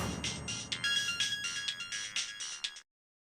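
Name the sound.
phone ringtone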